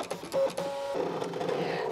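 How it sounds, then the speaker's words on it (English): A computerized sewing machine draws stitching lines on washaway stabilizer, giving off a brief, busy mechanical whir with a few clicks and a short high tone. "the machine will draw my stitching lines right on the washaway stabilizer"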